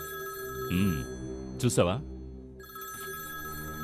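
A telephone rings with steady electronic tones in a Telugu dubbed film scene, breaking off briefly while a voice speaks, then resuming.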